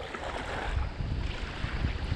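Near-gale gusts roar past a kayaker on rough, whitecapped water, constant loud wind buffeting with low thumps of chop slapping against the hull, and no one speaking.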